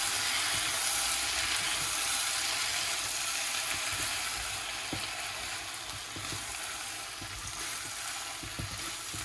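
Eggplant and cherry tomato confit seasoned with cumin being stirred in a pan, with steady sizzling and soft scraping and stirring sounds throughout, close and continuous without talk.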